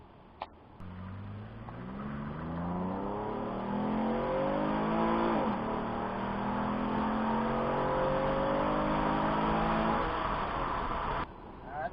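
A 5th-generation Chevrolet Camaro accelerating hard from 0 to 60, its engine note climbing steadily through the gears with brief shift dips, loud and continuous from inside the car, with no talking.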